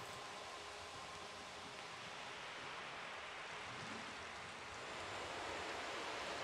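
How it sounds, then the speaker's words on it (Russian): Steady broadband wash of sea surf, a continuous roar of waves that swells slightly toward the end, with no voices. "вот шум моря, прибои там"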